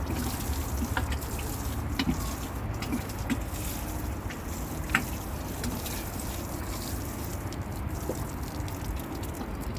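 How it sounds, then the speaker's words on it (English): Garden soil being watered, a continuous soft splashing and trickling of water over a low rumbling background, with faint scattered clicks throughout. "So here we continue watering."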